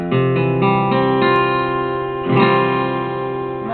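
Acoustic guitar chord with open strings ringing, strummed several times in quick succession and left to sustain, bright and close with no voice over it.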